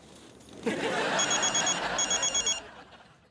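An old-style telephone bell rings in two rapid trilling bursts, fairly close, over a hissy room background.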